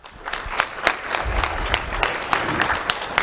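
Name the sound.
audience applause at awards ceremony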